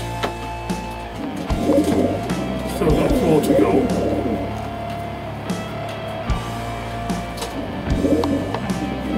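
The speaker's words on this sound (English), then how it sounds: "Really does look a nice pigeon." Red pigeons in a loft coo in low, throaty bursts, several rolling calls coming and going near the microphone while someone talks over them.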